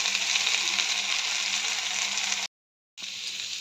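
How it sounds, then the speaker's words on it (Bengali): Onion masala sautéing in a pan, seasoned with salt, gives a steady, loud sizzle and crackle that breaks off into silence for a moment before frying resumes. "এইবার আরও ভালো করে কষতে হবে"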